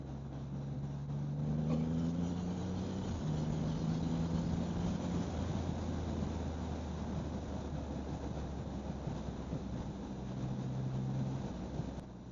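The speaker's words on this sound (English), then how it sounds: "now it's time to open up this throttle" A Triumph Rocket 3 R Black Limited Edition motorcycle pulls hard with the throttle opened, its deep engine drone rising in steady, climbing tones over constant wind and road rush, loud and sustained throughout.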